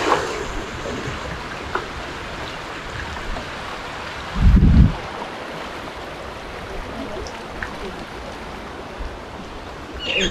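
Floodwater of the Itram stream in Surkhet rushes after continuous rain, a loud, steady broadband roar throughout with a brief low rumble near the middle.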